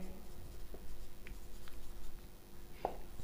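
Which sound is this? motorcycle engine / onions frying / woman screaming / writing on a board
writing on a board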